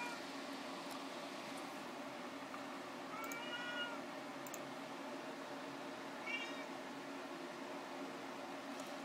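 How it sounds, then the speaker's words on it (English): A pet cat meows twice, short quiet calls spaced a few seconds apart over a steady hum of room noise and a faint fan-like hiss. "Aw, my kitty came to say hello."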